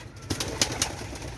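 A few pigeon calls sound close by at a pigeon market in Khulna, short bursts over a soft steady background, with no voices.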